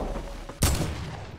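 A single sharp, loud sniper rifle crack in a video game, sounding close and followed by a short decaying rumble over a low background hum.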